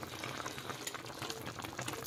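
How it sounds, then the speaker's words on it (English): A pot of Jamaican-style steamed red snapper bubbling on the stove makes a steady, dense simmering hiss and crackle of boiling liquid, close and continuous without pause. "Alright guys, so look, it's bubbling."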